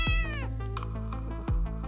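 A cat lets out a loud, drawn-out meow close by, followed by a second, shorter meow near the end, with no talking.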